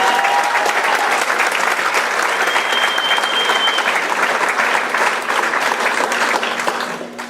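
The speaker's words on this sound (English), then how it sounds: "Please give them a nice round of applause." Loud, sustained applause from an audience for contestants on stage at a singing competition, dense and even throughout with faint whistles and voices mixed in, tapering off at the very end.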